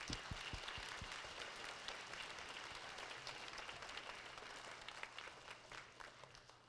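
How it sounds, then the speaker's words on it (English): An auditorium audience at an elementary school event gives students a long round of applause, starting with a few loud near claps and settling into steady, dense clapping from many hands. "So how about a huge round of applause for our students?"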